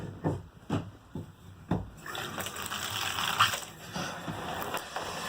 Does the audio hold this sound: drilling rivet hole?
no